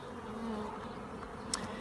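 Honeybees buzz at a beehive frame holding brood and larger drone cells, a continuous close hum with one brief click near the end and no talking.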